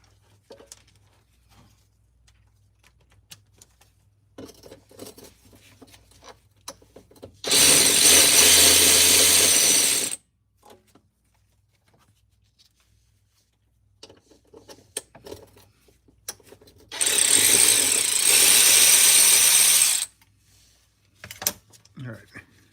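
Two loud, sustained bursts of a power tool run for about two and a half seconds each, spaced apart, while bolts come off a bracket under a 2007-2010 BMW M6; quiet clicks and handling noises fill the gaps between them.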